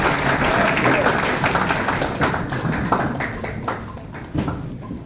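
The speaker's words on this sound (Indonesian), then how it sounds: "Berikan aplaus kepada saudara-saudari yang datang." Applause from a church congregation welcoming visiting brothers and sisters at a Sunday service, a dense wash of clapping that fades gradually over several seconds, with some talk and murmuring mixed in.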